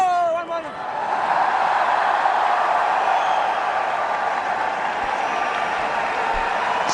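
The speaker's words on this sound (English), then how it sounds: "Small cheer for the 100 for India." A small crowd cheers and applauds at a cricket Test match between India and New Zealand in Indore as India reach 100 runs, a broad, steady wash of cheering that swells after a quiet first second and holds.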